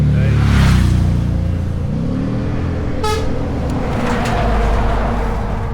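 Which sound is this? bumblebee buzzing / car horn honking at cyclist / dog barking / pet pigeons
car horn honking at cyclist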